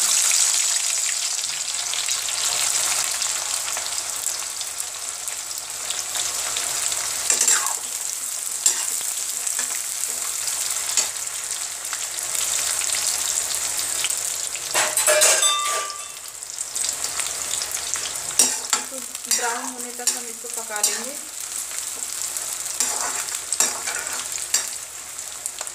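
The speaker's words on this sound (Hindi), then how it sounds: "तेल हमारा गर्म हो गया है, अब इसमें हम प्याज को डाल देते हैं।" Sliced onions frying in hot oil for a restaurant-style vegetable biryani, a steady close sizzle with occasional stirring clatters running throughout, no voices.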